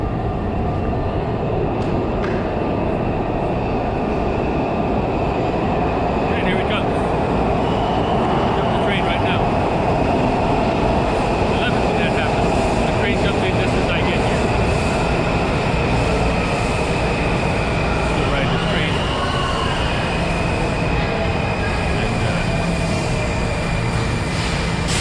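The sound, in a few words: train passing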